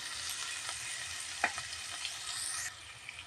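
Kurma masala with vegetables, salt and Kashmiri chili powder fries in a pan, giving a steady close sizzle broken by a few sharp clinks and scrapes of stirring.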